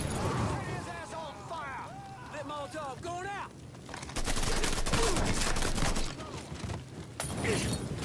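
Gunfire in the Mafia III video game: loud bursts of rapid shots in a sustained volley that fades off, then comes back in a shorter flurry. Whistling or squealing calls come before the shooting.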